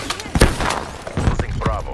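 Frag grenade blasts and gunfire crack through a Call of Duty multiplayer Domination match, a string of sharp thuds and shots, while game voice callouts are heard in between.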